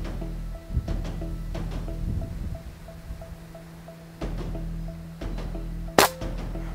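Air gun shots fired outdoors while hunting green iguanas in trees: a few sharp, close cracks spaced several seconds apart, the loudest one near the end, over steady wind and a low background hum.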